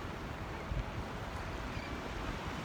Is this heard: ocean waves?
yes